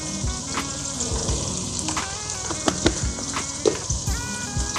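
Dried coriander and spices sizzle steadily in hot oil in a pan for kadhi pakora, a loud continuous frying hiss with a few sharp crackles and stirring clinks near the end.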